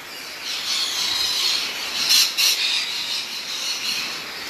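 Parrots squawk loudly and continuously inside a zoo's tropical house, a dense wash of shrill, overlapping calls with a few sharper bursts standing out near the middle, no talk over them.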